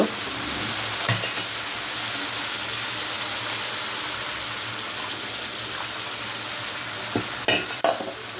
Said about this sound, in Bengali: মশলাটা যখন ভালো করে কষানো হয়ে যাবে তো আমি মাছগুলো দিয়ে দিব।